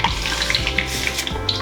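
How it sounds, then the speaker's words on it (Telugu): Mustard seeds and cumin crackle and sizzle in hot oil as a tempering for a broad bean pickle, a loud, close, continuous frying hiss with small pops and stirring clatter, and no talking. "సేమ్ అదే ఆయిల్లో తాలింపు పెట్టేసుకుందాము. అండ్ ఆవాలు,"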